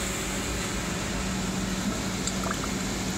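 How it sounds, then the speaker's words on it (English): Continuous bubbling and gurgling of water welling up in a CNC plasma water table, a dense steady fizz with no voices, close by and moderately loud. "water bubbling up in here."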